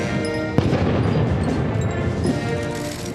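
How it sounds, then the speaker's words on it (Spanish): A 21-gun cannon salute welcoming the Colombian president at a Spanish state reception, heard as a booming blast followed by a dense, rumbling wash of crowd noise and echoes throughout. "21 cañonazos de salva le dieron la bienvenida al mandatario colombiano."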